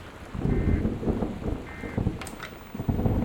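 Rain and a rolling thunderstorm from the video game Gone Home: a steady wash of heavy rainfall with low rumbles of thunder swelling and fading throughout, and no voices.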